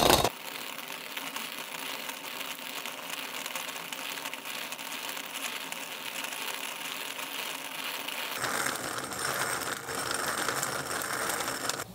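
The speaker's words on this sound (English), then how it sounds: "At first, the wheat berries start acting like ball bearings and making it kind of float, but they start to get ground down." A stone quern hand mill grinds wheat berries into flour, a steady close gritty rumbling scrape that grows rougher and louder toward the end, with no talking.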